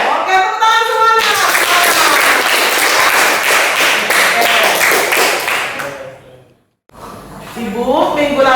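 A classroom of vocational high school students in Indonesia clapping together for several seconds, loud and close, then stopping abruptly before a teacher resumes talking.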